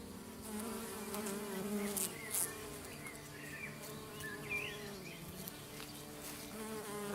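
Steady buzzing of many kept bees at a university farm fills the air continuously, a dense insect hum with a few brief sharper sounds overhead.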